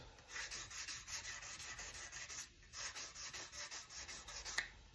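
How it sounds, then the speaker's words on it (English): Fine 2000-grit sandpaper rubbed by hand over the finish of a Les Paul kit guitar body, giving steady, soft, rhythmic back-and-forth scratchy strokes at close range with no talking. "2000 grit to really kind of polish these things up a little bit so that they're nice and smooth"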